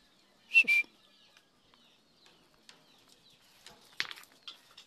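A racing pigeon returns to its loft after a hard race, making two short, close bursts of whistle-like wing flutter near the start and another flurry later, with quiet pauses between.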